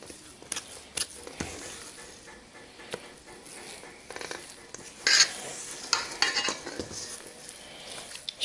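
Peanut butter cookie dough worked with a spatula in a bowl, giving soft scraping and stirring strokes with occasional clinks against the bowl, close and moderately quiet with no talk.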